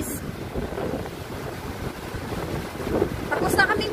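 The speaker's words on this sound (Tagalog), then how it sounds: "At sobrang mahangin dito guys." Strong wind buffeting the microphone at a beach resort on Boracay, a continuous low rumbling roar throughout with faint voices underneath.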